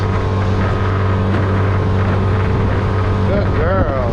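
A john boat's outboard motor drones loud and steady as it rides waves near a passing tug boat on Florida water, with wind buffeting the microphone and a voice calling out near the end.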